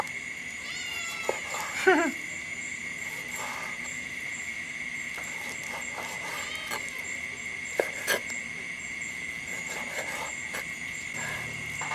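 A cat meows several times, a clear meow near the start and softer ones later, over a steady background of chirping crickets at night.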